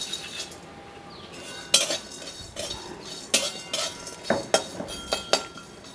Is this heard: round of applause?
no